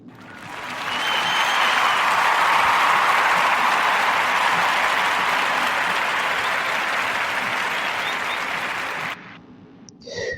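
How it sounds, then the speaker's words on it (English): A podcast audience gives a warm round of applause, steady dense clapping that swells within a second, holds for about eight seconds, then drops away abruptly with a brief final patter. "I'm going to give a warm narrative round of applause for Black Rats."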